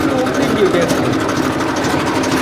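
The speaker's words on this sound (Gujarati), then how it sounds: "આપણે ચડી ગયા જૂનવાણી ટ્રેક્ટર ઉપર" An old tractor engine runs nearby with a steady, rattling chug, a loud mechanical drone that holds even throughout, with talk faintly underneath.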